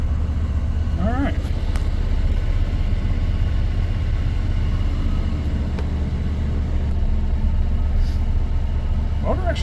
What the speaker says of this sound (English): Motor actually sounds pretty healthy.